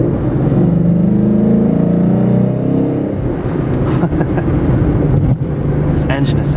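A Ford Mustang GT with the 5.0 V8 revs hard and close by, its deep throaty drone rising and falling for about three seconds before settling into a rougher idle-like rumble as people talk.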